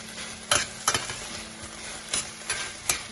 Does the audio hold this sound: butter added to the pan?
yes